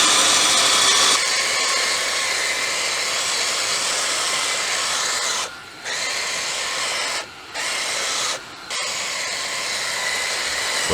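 An overlanding vehicle's newly installed winch spools line onto its drum with a loud, continuous high whine, briefly dropping out three times as the motor pauses.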